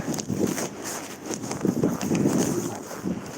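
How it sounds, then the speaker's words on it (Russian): Strong, freezing wind during a frosty December in Yakutsk buffets a phone's microphone, producing irregular gusty thumps and rushing roar in uneven bursts, close and loud, with no speech. "Жуткий ветер."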